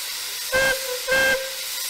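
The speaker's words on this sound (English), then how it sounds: "the driver opens the throttle valve to allow steam to flow into the cylinders" Two short bursts of hissing steam from a steam vehicle's engine as the throttle valve lets steam into the cylinders, with a whistle-like tone, each about a quarter second, separated by a brief pause over a steady background hiss.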